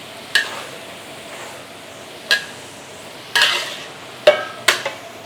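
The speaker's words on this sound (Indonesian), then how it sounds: "Kita aduk-aduk lagi." A large pan of salted squid rice mixture cooked in bulk for a hundred portions is stirred, with intermittent scraping clanks of the utensil against the pan, about five strokes spaced irregularly over a low sizzling background.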